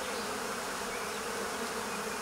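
A honeybee swarm settled on a shrub gives off a dense, continuous buzzing hum, close and loud, with no voices over it.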